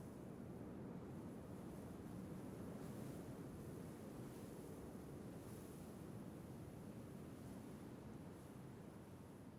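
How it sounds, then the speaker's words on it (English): Gentle sea waves in a video game's intertidal zone wash in a soft, continuous, distant murmur, faint and even throughout with a breezy hiss. "The sound of this sea has become feeble."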